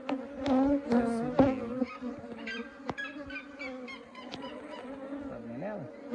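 Honey bees buzz around an excellent hive during a first post-harvest inspection, a droning hum mixed with other tonal animal calls and some background noise, moderately loud and close.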